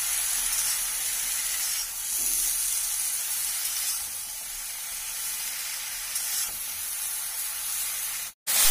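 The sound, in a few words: stirring greens with mustard paste in a hot pan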